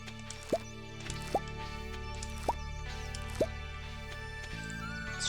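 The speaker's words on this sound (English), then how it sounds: "Let's try doing a bit of watering." Watering crops in the Stardew Valley video game: four short, clear droplet-like splashes spaced about a second apart over a soft looping background, no talking.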